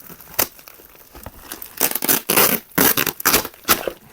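Packing tape is torn and peeled off a parcel shipped from the USA, arriving in a series of loud, close crackling rips and crinkles with short pauses between pulls.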